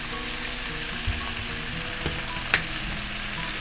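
Pork kaldereta bubbles and sizzles steadily in a pan while a spoon stirs it, with a few soft knocks and one sharp scrape against the metal, close up and without speech.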